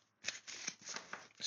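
A deck of Ostara oracle cards is cut and shuffled in hand, giving a dry, papery riffle and slide of card stock in several quick bursts at close range, with no voices.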